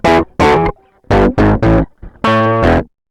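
A harsh, heavily distorted pitch-shifted tone through a Decapitator saturation plugin sounds in a series of short, buzzy notes, some in pairs, with brief gaps between them.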